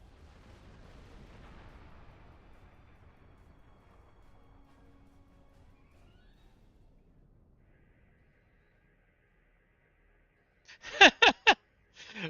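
Cannon scatter volley fired from a Romulan ship in a Star Trek video game: after quiet low rumble, a rapid cluster of four or five loud, sharp bangs bursts out near the end.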